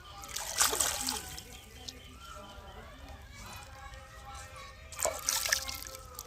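Hands washing muddy taro leaves in a basin of water, with splashing and sloshing in two louder bursts at the start and end and a softer trickle between.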